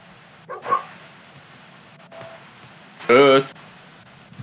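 Dog barking in the video game Fable 2: a short bark burst near the start, then a louder, tonal bark-like call around three seconds, over a low game ambience.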